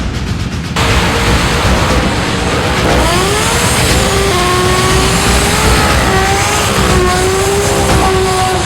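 Team Supra import drag race car accelerating hard at a 250-mile-per-hour drag strip run, a loud, continuous engine roar with rising and shifting pitch, heard alone without talk.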